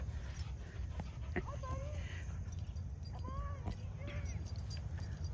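A dog whines and whimpers in short rising cries amid steady outdoor background noise, with people talking nearby.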